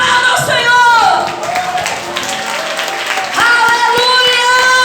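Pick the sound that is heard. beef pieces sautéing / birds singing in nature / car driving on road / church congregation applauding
church congregation applauding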